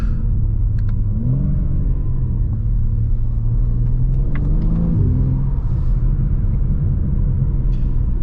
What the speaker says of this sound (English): The valves open up and it roars.